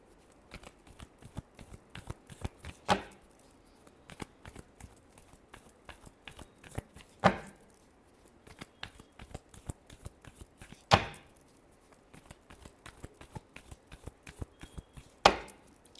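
Tarot cards shuffled by hand in short quiet riffles, with four sharper, louder bursts spaced a few seconds apart and no voices.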